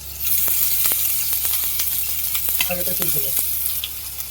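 Chopped garlic sizzles and crackles steadily in hot oil for a fish jhuri dish, with a few clear pops and light stirring clinks over the frying hiss, no talking.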